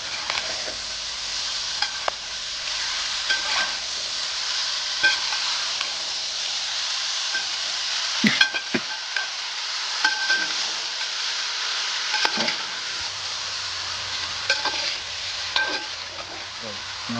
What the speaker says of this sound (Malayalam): നമ്മുടെ മുയലിപ്പോൾ നന്നായിട്ട് ചട്ടി കിടന്ന് ചിരണ്ട് വരണ്ട് വന്നുകൊണ്ടിരിക്കുകയാണ്